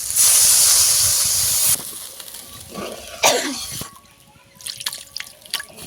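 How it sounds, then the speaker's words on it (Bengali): Water poured into frying masala for Bogo fish curry, a loud burst of hissing sizzle and steam that cuts off, then fades into softer bubbling, drips and occasional clicks. "জল দিয়ে দেব"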